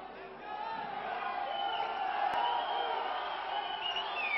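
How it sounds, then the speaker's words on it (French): A crowd in Aubervilliers boos steadily at a wrestling match, a broad sustained jeer that builds and holds at moderate distance, with talk mixed faintly underneath. "Sous les huées de la foule aubervilloise"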